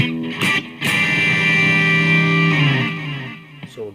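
Distorted electric guitar run through a Boss BR-80 multi-effects recorder, a couple of sharp picked hits followed by a sustained, saturated chord ringing for about two seconds before fading, played alone.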